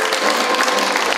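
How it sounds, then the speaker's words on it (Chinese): A crowd at a volunteer fire brigade's fire truck donation ceremony in Wuri, Taichung, breaks into brisk, dense applause, loud and close, filling the short stretch evenly. "现场响起掌声"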